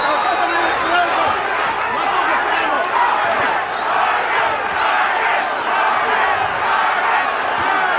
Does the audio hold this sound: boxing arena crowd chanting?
yes